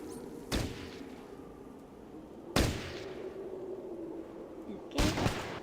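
Three sharp shots ring out in Fallout Tactics, spaced about two seconds apart, each a loud broadband crack with a short decay over a steady low game hum.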